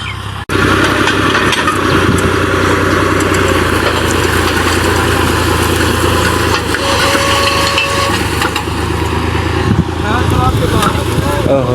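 A tractor engine runs with a steady, loud, low chugging rumble close by, while people talk over it throughout.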